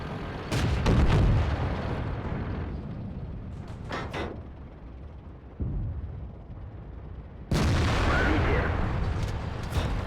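Tank cannon shots in the video game World of Tanks, heavy booming blasts with long rumbling decays, a cluster near the start, another around four seconds and a loud burst later, over low engine and battle noise.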